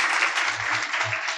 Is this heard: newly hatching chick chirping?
no